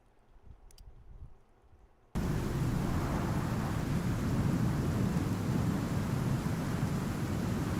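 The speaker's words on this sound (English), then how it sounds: "I'm not sure which controls the storm sound." Thunderstorm ambience from the survival video game Icarus: after about two seconds of quiet, loud, dense rain and rolling thunder roar in abruptly and continue steadily at close range, with no voices.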